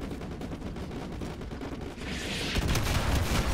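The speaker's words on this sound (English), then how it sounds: "Fire mission received. Artillery inbound. Confirmed. Firing." Artillery fire in the Call of Duty Modern Warfare 2 campaign rumbles as dense, continuous battle noise with rapid gunfire crackle, swelling into heavier low booms near the end.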